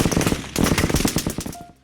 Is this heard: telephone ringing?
no